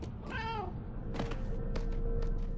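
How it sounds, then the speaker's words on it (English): A cat in the Murdered: Soul Suspect video game on Xbox 360 lets out a single clear, drawn-out meow up close, followed by a few soft thumps and light clatter. "Whoa, cat."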